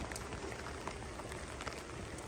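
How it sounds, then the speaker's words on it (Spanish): Rain pours during a storm beside a river in the mountains, a continuous broadband hiss with scattered sharper drop impacts, fairly faint and steady throughout. "Miren no cómo está lloviendo."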